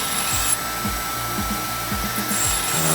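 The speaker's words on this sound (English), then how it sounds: "Now I'm using it's called Scotch Bright wheel, sort of like a nylon scour" Coarse Scotch-Brite nylon wheel on a power tool cleaning the edges of an old steel axe head, a close, steady whirring rub with rhythmic pulsing and no talking.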